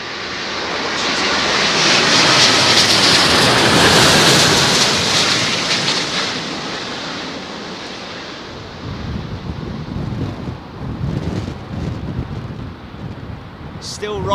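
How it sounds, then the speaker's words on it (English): A British Airways Airbus A350 lands at London Heathrow in high winds, its loud jet roar swelling and passing close, then fading into gusty wind buffeting the microphone. "Beautiful A350 with British Airways."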